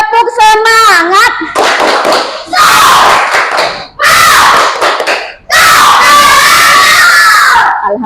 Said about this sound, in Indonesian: kita tepuk semangat dulu ya semuanya